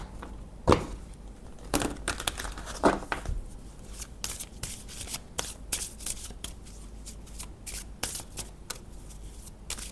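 Tarot cards are shuffled by hand close up, with a quick run of crisp, papery riffles and flicks, some louder slaps and snaps, and short pauses in between.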